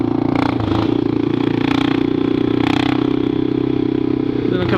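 A Honda NX Falcon motorcycle engine idles and runs with its exhaust pipe removed, giving a loud, steady, rough drone with a clattering edge that continues without a break.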